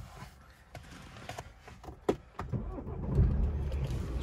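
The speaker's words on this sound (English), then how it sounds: "Start the vehicle up." A BMW 125d M Sport with a 2.0 diesel engine starts up: faint cabin clicks, then the engine catches about halfway through and settles into a low, steady rumble.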